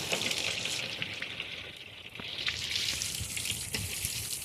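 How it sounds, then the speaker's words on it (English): Running water splashes from a faucet as hands and a knife are rinsed at a sink after cleaning freshwater fish, a steady hiss and patter that swells partway through with no talking. "Rinse your hands, rinse your knife."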